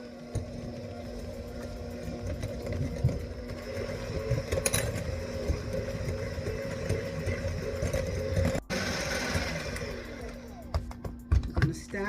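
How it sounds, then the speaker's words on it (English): Electric hand mixer mashing warm cooked, peeled sweet potatoes, a steady close motor whir with a rough grinding texture lasting throughout, with brief knocks near the end and a voice faintly underneath. "I'm going to smash them real well with the mixer."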